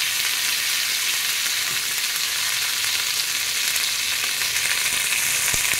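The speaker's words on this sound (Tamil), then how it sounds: "அதே கடாயில் வந்து கருவேப்பிலையும் புதினாவையும் இப்போ அதில் வதக்க போகிறேன்" Curry leaves, mint and garlic sautéing in a pan give a steady, dense sizzle and crackle of frying that runs throughout at close range, with no talking.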